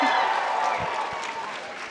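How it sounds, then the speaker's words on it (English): A convention crowd at a cosplay contest claps and cheers in a dense, steady wash of applause with scattered screams, loud and sustained throughout the moment. "if I can hear you guys either scream or clap"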